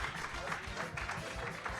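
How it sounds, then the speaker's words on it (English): Live studio audience briefly applauding contestants, a short burst of scattered, pulsing clapping close by with light crowd noise behind. "Round of applause for our fine contestants tonight."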